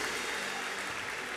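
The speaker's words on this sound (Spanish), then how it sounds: "aplauso fuerte" A church congregation applauds at a worship conference, a faint, distant, steady wash of clapping held at low level throughout.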